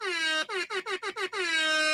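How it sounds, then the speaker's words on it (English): Soundboard air horn blasting loud and close: one long held blare, then a rapid stutter of five short honks, then another sustained blast. "the air horn"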